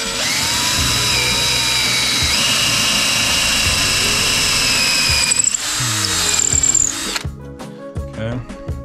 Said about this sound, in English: I am going to drill the hole right now